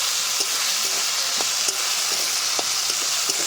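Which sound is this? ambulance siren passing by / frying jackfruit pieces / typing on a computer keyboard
frying jackfruit pieces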